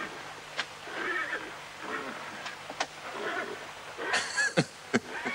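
A horse whinnies in a Western-style film scene, giving a fairly faint, shrill neigh against quiet background sound and soft talk.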